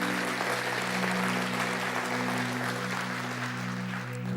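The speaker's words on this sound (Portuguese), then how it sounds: "Dá um aplauso bem forte a Deus." A church congregation claps loudly and steadily, a dense sustained wash of applause over a low droning background hum, with no voices heard.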